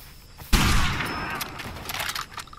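Gunfire in Far Cry 2: a sudden loud burst of shots erupts and rolls into sustained rapid firing with echoing tail, followed by scattered smaller cracks.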